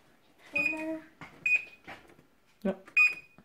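A kitchen oven timer being set for 35 minutes while baking a cinnamon coffee cake, giving four short, clear electronic beeps spaced about a second apart, close by, with soft talk around them.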